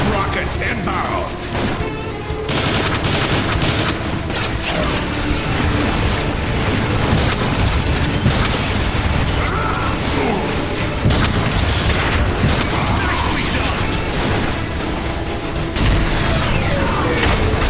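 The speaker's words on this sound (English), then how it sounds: "Decepticon rocket inbound." Decepticon rockets explode in Transformers: War for Cybertron amid a dense, continuous barrage of loud booms, mechanical clanks and crashing impacts that leaves no quiet moments.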